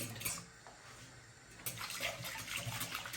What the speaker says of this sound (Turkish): Biraz suyumuzu, soğuk suyumuzu koyuyoruz.